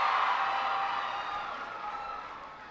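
A crowd at a community college cheers and applauds President Obama, a dense, steady wash of voices and clapping that slowly fades.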